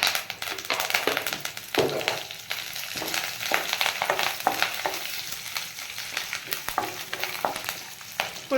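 Okra frying with curry leaves in a hot pan, a steady close sizzle with frequent scraping stir taps throughout and no talk.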